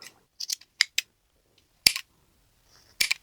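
Scissors cut through craft advent calendar materials with a handful of crisp, separate snips and clicks, close and slow, with quiet gaps between cuts.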